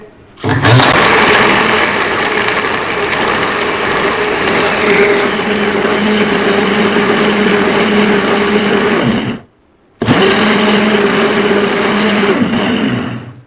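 An electric blender or grinder crushing ice with mint leaves for a mint sharbat, running loud and steady with a grinding whir for about nine seconds, stopping briefly, then starting again, with no talking.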